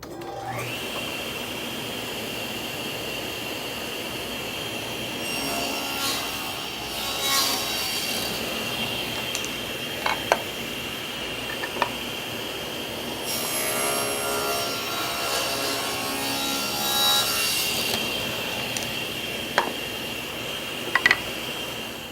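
A table saw cuts plywood cabinet pieces against an adjustable fence, a sustained high whine from the spinning blade with bursts of rougher cutting noise as each piece passes through, plus occasional knocks in a workshop.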